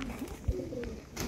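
Sheikhan breed pigeons give soft, low cooing, faint and close, a brief rolling call over quiet background hiss.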